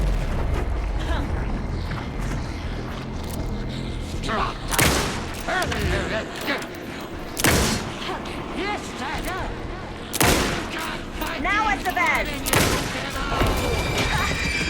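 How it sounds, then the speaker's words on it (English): Bursts of heavy gunfire and booming blasts erupt repeatedly amid Alan Wake 2 finale action, with voices calling out over the noise. "pin him down with gunfire for me to get the light on him"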